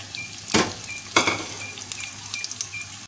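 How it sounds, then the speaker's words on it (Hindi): Onion and cumin seeds fry in hot oil in a pan, a close bright sizzle with two sharp bursts as ingredients hit the oil, then a softer continuous crackle with light utensil clinks. "फ्राई पैन में ऑयल डालने के बाद मैं इसमें थोड़ा सा ज़ीरा डालूंगी, ज़ीरा आधा चम्मच से थोड़ा कम ज़ीरा है, और इसके साथ ही मैं इसमें प्याज डाल दूँगी"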